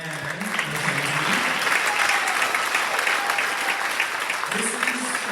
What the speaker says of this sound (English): Another round of applause for Gracie and Mackenzie.